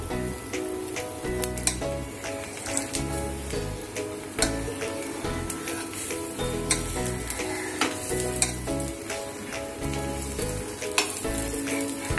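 Oil sizzles loudly and without pause under a lentil dosa frying on a pan, with a few scraping and stirring taps along the way.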